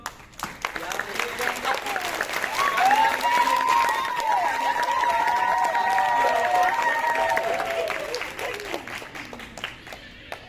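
A theatre audience applauds at the end of a play, with dense, sustained clapping that swells and holds for several seconds. A voice speaks over it throughout.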